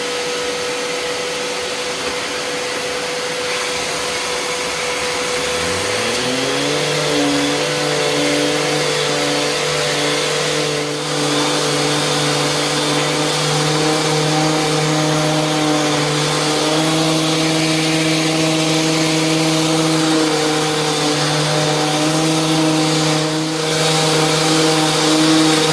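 Parkside cordless orbital sander running with a dust extraction vacuum attached, a loud steady whirring drone that spins up partway through and then holds an even pitch, with no voices.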